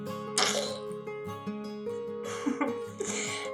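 A person vocally imitates farting and burping, making a few short blurting bursts and throaty tones over a steady background hum, close to the microphone.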